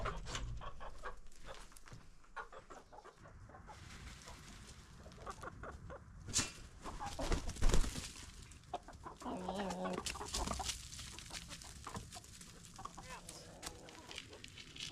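Backyard chickens cluck and squawk repeatedly at close range, the calls rising into a louder burst of excited clucking midway, with a person talking intermittently underneath.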